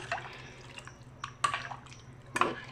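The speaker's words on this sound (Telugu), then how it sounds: "ఇప్పుడు కలదిప్పుకుందాం ఒకసారి" A spoon stirs pepper rasam with added water and salt, making a few soft liquid swishes and drips in brief separate bursts, quiet and close.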